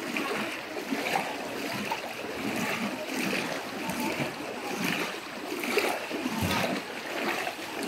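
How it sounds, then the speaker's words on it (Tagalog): A strong flood current rushes through a flooded area in Roxas, Oriental Mindoro, with churning water and splashes in surges at moderate distance. "Malakas ang current ng tubig."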